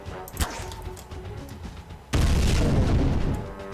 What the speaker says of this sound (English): Quite a big explosion on that one, right?